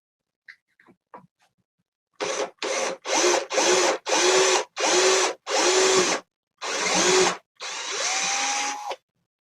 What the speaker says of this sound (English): we're going to drill one hole here